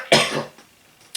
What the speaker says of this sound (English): It's not a chesty cough